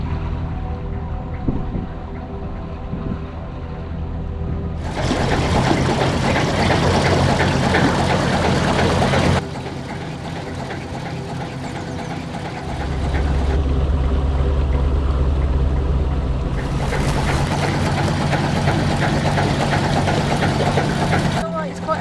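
A narrowboat's engine runs steadily while cruising on the Shropshire Union Canal, a low mid-pitched chug that is constant throughout, with bursts of wind or water noise and occasional talk on board.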